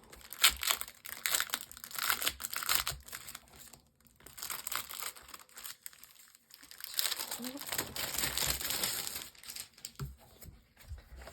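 A craft paper pack from a new collection is unwrapped, its plastic crinkling and rustling loudly in irregular bursts with short pauses, close to the microphone.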